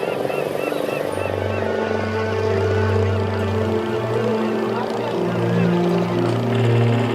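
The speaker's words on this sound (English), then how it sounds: "the noise from the diesel engines is horrendous" Heavy diesel boat engines drone and throb steadily on Chilika Lake in Odisha, India, a low mechanical rumble with shifting pitch, nearby on the water.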